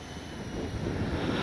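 A Freewing 80mm A-10 Thunderbolt RC jet flying overhead, a steady rushing turbine whoosh that grows slightly louder, with wind noise on the microphone.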